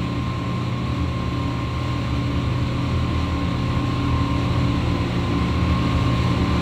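A 2012 Outlaw 10.7-metre catamaran's engine drones steadily at 4,000 RPM and 20 knots, a constant loud hum with rushing water and wind, no voices.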